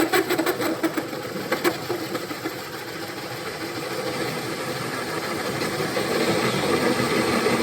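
A 2.5 inch hole saw on a drill cuts through a board in a garage, giving a gritty grinding whir with rapid chattering at first, growing steadier and slightly louder as it bites deeper.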